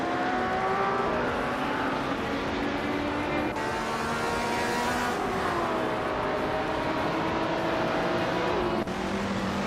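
Race car engines roar continuously in a racing video game, loud overlapping tones rising and dropping in pitch as cars pass and overtake one another.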